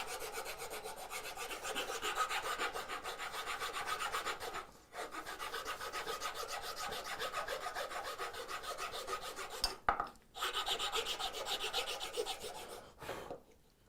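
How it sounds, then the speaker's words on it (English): A four-in-hand rasp files the wooden frame of a handmade coping saw in long, steady, close scraping strokes, broken by a few brief pauses and an occasional knock, with no talk. "Nice thing about that is you have the rasp if you want to go really fast"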